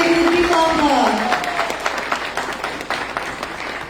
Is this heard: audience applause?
yes